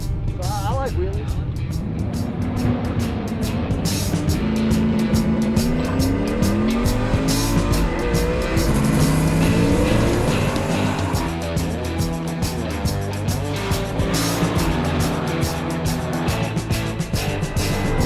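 Race car running on a track, a wheelie-prone drag-style car, engine roaring loud and close with sharp tire squeal and skidding throughout, people talking over it.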